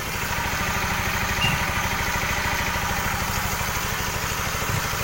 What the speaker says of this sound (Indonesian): jadi untuk sejauh ini motor masih hidup, aman